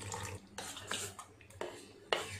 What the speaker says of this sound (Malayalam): ഇനി നമുക്കിതിലേക്ക് കുറച്ച് വെള്ളം കൂടെ ചേർത്ത് ഒന്ന് മിക്സ് ചെയ്തെടുക്കാം.